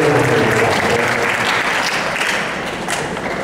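Sustained applause from a crowd of students at a school award ceremony for best conductors, a dense, steady wash of many hands clapping at once that eases off slightly toward the end.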